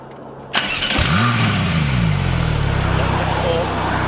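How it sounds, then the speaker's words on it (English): A rear-engined 2019 Porsche 911 Carrera (991.2) cranks and fires up with a burst, then settles into a deep rumbling idle with a light rev, close by. "Typical Porsche sound. Engine in the rear, obviously. Do a little rev."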